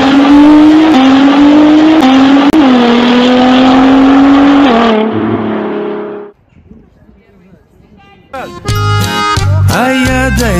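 A car engine running and revving loudly, rising and falling in pitch with a steady roar, then cutting off briefly before a burst of mixed noise and voices.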